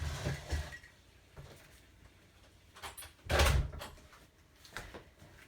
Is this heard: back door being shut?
yes